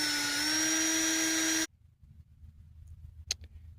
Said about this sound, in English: I just got an old Dremel bit here. I guess it's sandpaper or something like that.